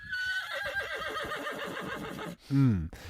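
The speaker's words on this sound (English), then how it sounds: "Meet Big Jake and Thumbelina, the tallest and smallest horse" A horse neighs loudly near the end, a short descending whinny rising above a busy background of speech-like chatter and mixed noise that fills the first two seconds.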